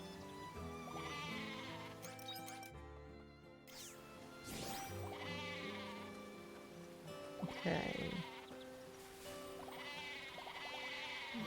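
Goats bleat on a farm in the video game Harvestella, several drawn-out wavering cries spread across the stretch over light game music, with one brief spoken word near the end.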